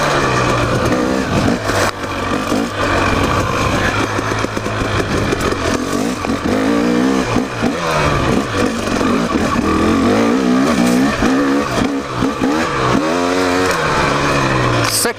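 A KTM 300 XC two-stroke dirt bike is ridden along a rocky single-track trail, its engine revving and bouncing through low gears close by, loud and continuous, with a voice faintly under it.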